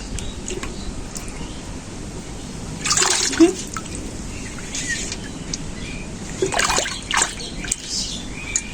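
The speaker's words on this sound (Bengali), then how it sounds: "জিওল মাছটা আমি জ্যান্তই নিয়ে এসেছিলাম বাজার থেকে, দিয়ে জলের মধ্যে রেখেছিলাম, ধরতে পারছি না" Live catfish thrashing in a container of water as someone tries to grab them, bursts of splashing and sloshing over a steady background, with a voice talking.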